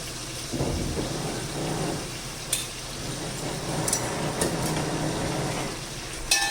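Steady rain with rolling thunder outside a home during a rainy spell, a dense continuous wash of rainfall with low rumbles and a few sharp knocks, fairly loud and without talk.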